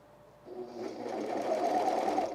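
A sewing machine stitches a seam on a fleece quarter-zip pullover in a steady mechanical whir that builds and carries on close and alone for about two seconds.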